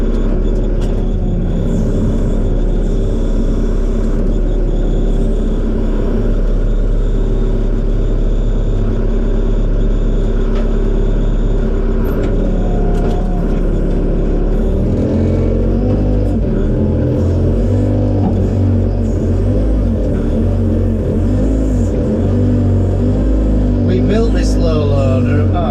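A broken-down JCB's diesel engine rumbles loud and close while the machine is pulled up on a farm, a deep steady drone that strains harder midway, with someone talking over it.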